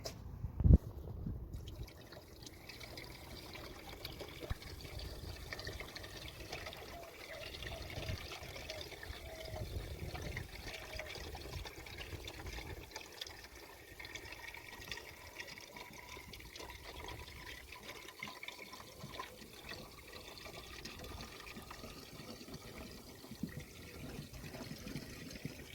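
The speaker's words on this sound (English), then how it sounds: "There's the water flowing now, flowing through." Coolant trickles and flows into the cooling system of a Chevrolet C1500 pickup, a faint, steady liquid pouring sound after a brief knock at the start, quiet and continuous throughout.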